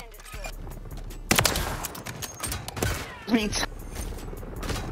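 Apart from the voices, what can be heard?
shotgun gunfire in a Black Ops video game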